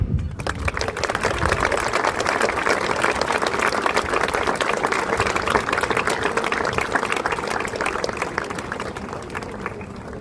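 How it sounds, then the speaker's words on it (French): A crowd at a 14 July ceremony in Les Sables d'Olonne applauds the parade members, a sustained, crackling patter of many hands at moderate loudness, steady throughout and heard alone without speech. "je vous demande d'applaudir"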